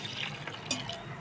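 Water is poured over salted dried fish with the heads removed, a soft, close splashing and trickling that lasts about a second, faint and unbroken.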